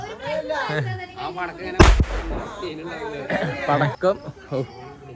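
A loud firecracker burst during a Vishu celebration, a single sharp bang near the middle amid lively chatter and voices talking throughout.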